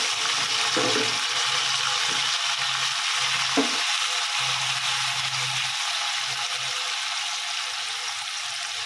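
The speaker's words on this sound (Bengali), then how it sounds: "পনিরটা হালকা করে ভেজে নেব" Paneer frying lightly with a pinch of salt in a pan gives a steady, soft sizzle that runs evenly throughout, with a few faint stirring clicks and no voices.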